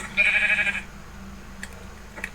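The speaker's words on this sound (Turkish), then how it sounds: "keçi yürüyor ondan korktum" A Minecraft goat gives one clear, nasal bleat at the start, followed by a couple of faint, short clicks over a low background hum.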